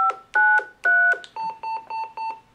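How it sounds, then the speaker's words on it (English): A handheld UHF radio sends a programmed call-group sequence of DTMF tones: four higher beeps, then four lower ones in an even rhythm, clear and close. "if I send the DTMF sequence that I've programmed as the call group for this radio"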